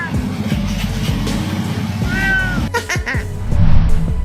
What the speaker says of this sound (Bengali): একটি বিড়াল আরামে ঘুমিয়েছিল, আর মালিক তাকে জাগিয়ে তোলার চেষ্টা করলে সে এমন ভাবে না বলে দেয়